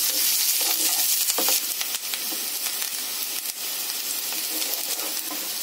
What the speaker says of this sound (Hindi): अब हम प्याज को अच्छे से भून लेते हैं।